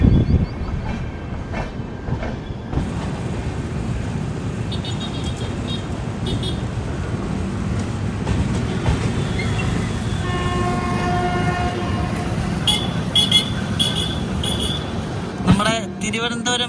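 The Thiruvananthapuram–Veraval Express rolls toward Keshod station with a loud, continuous rumble of wheels and carriages, a sustained horn blast in the middle and sharp rattles toward the end.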